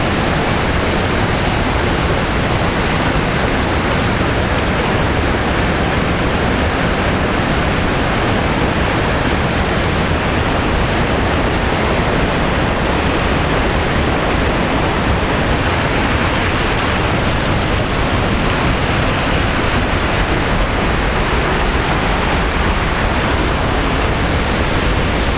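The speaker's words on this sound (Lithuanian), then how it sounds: "Aš suprantu, kad tas vanduo yra nu iš ledynų, kalnų upė." A glacier-fed mountain river rushes in a loud, steady, broadband roar that fills the whole stretch without a break, with no voices over the torrent.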